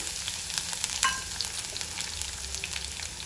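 Garlic cloves crackle and sizzle in hot tempering oil with green chillies and dried red chillies for Rayalaseema pappu pulusu, a steady close frying hiss with scattered sharp pops, no voices.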